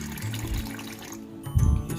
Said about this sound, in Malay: Kemudian kita masukkan air.